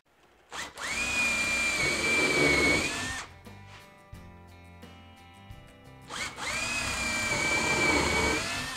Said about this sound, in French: on va pré-percer l'ensemble. Et fixer le fond sur le corps par le dessous.